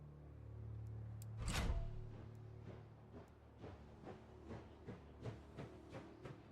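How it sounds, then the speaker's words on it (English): Train sound in the video game Last Train Home: a loud hiss-like burst early on, followed by a steady run of evenly spaced clanks, like wheels passing rail joints, over a low rumble. "Makes a really, really nice train sound"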